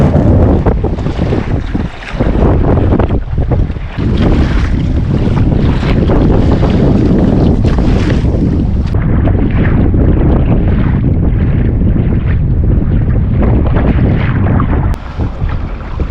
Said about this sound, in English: this is what the wind and waves from the south looks like